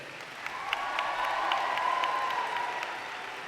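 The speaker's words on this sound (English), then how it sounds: "I invite the members of the graduating class to reciprocate by applauding your family, friends, faculty, staff" Sustained applause from a large crowd of graduates at a university convocation ceremony, steady and even, with a faint tonal hum running beneath the clapping.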